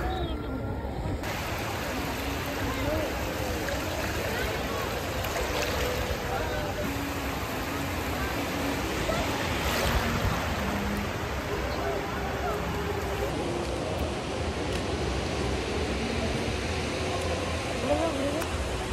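Sea waves at Digha beach wash in a steady broadband roar, with people talking faintly in the background.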